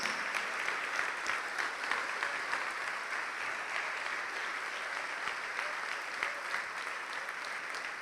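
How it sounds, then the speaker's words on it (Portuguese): A church congregation claps steadily during a Portuguese-language evangelical service, a continuous wash of many hands at moderate distance, fairly soft and even throughout. "Vamos aplaudir ao Senhor Jesus por cada filho pródigo, por cada filha pródiga que está chegando"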